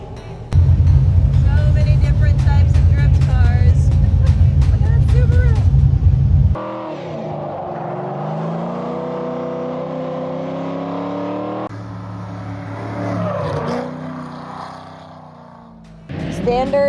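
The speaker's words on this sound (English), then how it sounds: "Let's get to drifting." Corvette drift car revving and sliding, loud engine roar that swells and drops in pitch through several passes, with talking over parts of it.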